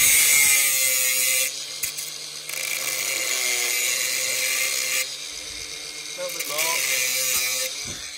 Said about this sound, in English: So we're gonna have to cut that band with a grinder